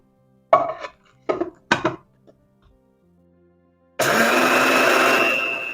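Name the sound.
grain grinder grinding flaxseed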